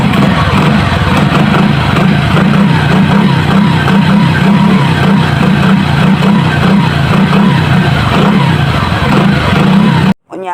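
A freshly washed Euro FI motorcycle engine running in a sound check, with a loud, continuous rumble and a rapid pulsing exhaust beat, very close before it cuts off abruptly at the end.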